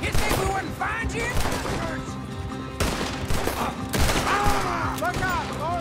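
Rapid gunfire bursts in Red Dead Redemption 2 as Arthur's group is chased by attackers out of an alley, loud sharp shots cracking repeatedly in clusters over a dense, busy game mix with brief voice fragments.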